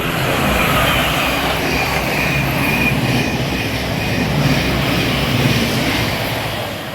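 A Class 700 electric multiple unit approaches on the East Coast Main Line at Welham Green, its steady rumble and rail noise building continuously from the distance with a faint wheel squeal and no voices.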